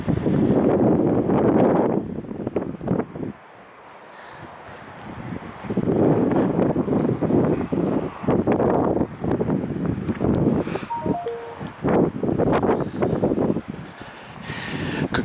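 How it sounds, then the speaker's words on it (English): Gusty wind on the castle mound of Brailes Castle Hill, buffeting the microphone in loud roaring bursts that drop away briefly before building again, with no one speaking. "Could get a little bit windier in a minute."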